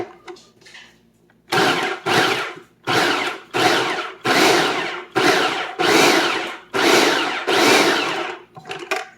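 An electric hand mixer beats a cream cheese mixture for chicken cheese balls, running in a steady series of loud whirring bursts with brief pauses between them and no talking.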